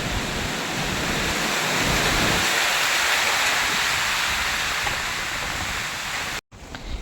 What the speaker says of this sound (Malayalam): കാറ്റിങ്ങനെ വീശുമ്പോഴുള്ള ആ ശബ്ദം.